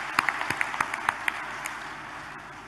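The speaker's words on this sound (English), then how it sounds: "I think they deserve a huge round of applause for that." A handful of scattered claps of audience applause at a factory inauguration in Hyderabad, fairly faint and distant, fading out over a couple of seconds.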